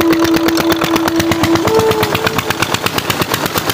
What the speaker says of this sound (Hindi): ज़रा मुझे ऊँची आवाज़ निकालनी पड़ेगी क्योंकि यहाँ इंजन का काफ़ी ज़्यादा शोर है